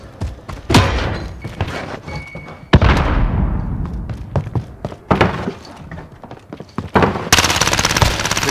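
Loud, punchy shotgun blasts from a game fire in irregular bursts, some with echoing decays, and a dense rapid burst of fire near the end.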